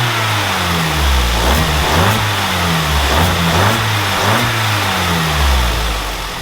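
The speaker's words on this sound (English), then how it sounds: "let's give it a few revs" A Vauxhall Corsa C track car engine revving repeatedly, rising and falling in pitch several times, loud and close, with no talking.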